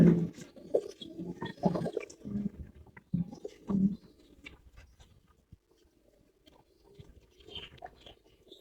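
Giribaz high flyer pigeons coo in a series of low, throaty calls close by. The calls cluster in the first few seconds, then thin out into quieter rustling and faint coos.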